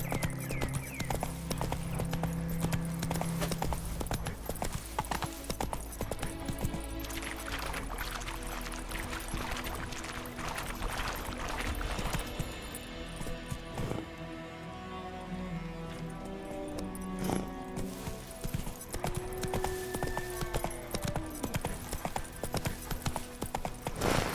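In The Witcher 3, the horse Roach gallops in a steady clip-clop of hooves. A dense music score and game ambience play loudly and continuously over the hoofbeats, which are hard to pick out in the mix.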